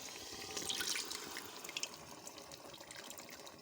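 Half a cup of water is poured into a pan of chicken and spinach, a steady splashing and trickling, continuous and fairly quiet, with small drips.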